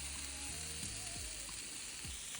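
Parmesan-crusted lamb chops sizzling on a grill, a faint, even hiss with a few soft pops, quiet and continuous, with no talking.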